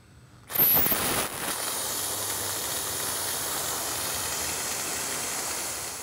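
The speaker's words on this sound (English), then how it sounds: "The bottom tricock should give me water immediately. Of course, we're going to see steam as well" Steam hisses steadily from the bottom tricock valve on a steam boiler. A sharp, loud blast at opening settles into a continuous, even roar that runs unbroken to the end.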